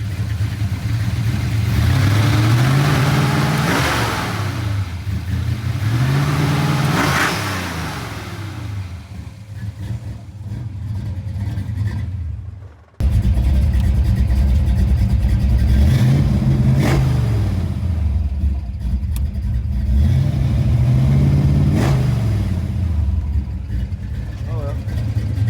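A Foxbody Mustang with a stock bottom end and nitrous accelerates hard down a road, engine revving up through gears in repeated rising surges, loud and close, with a brief break midway.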